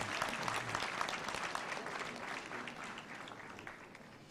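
Steady, faint crowd applause at a Technical University of Kenya graduation ceremony, continuous clapping from a distant audience lasting several seconds.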